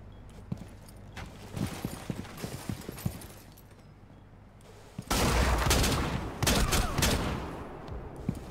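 Gunfire in Rainbow Six Siege, scattered shots and bursts early on, then a loud dense stretch of rapid fire and impacts after a brief lull, with no talk over it.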